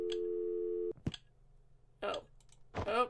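A telephone busy signal in a video game, a steady tone that cuts off after about a second, followed by a click, a low hum and brief muffled speech.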